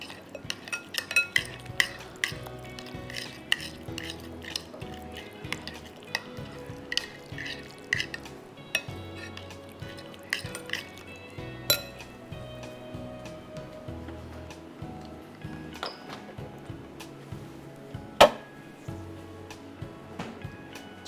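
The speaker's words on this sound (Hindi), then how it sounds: "अच्छी तरह से इसको हम मिक्स करेंगे।" Ingredients being mixed in a bowl in a home kitchen, giving a steady run of light clinks, scrapes and taps of utensil against bowl for about twenty seconds, with one sharper knock near the end and no voices.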